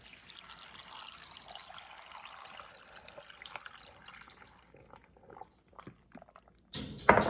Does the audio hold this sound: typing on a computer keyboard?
no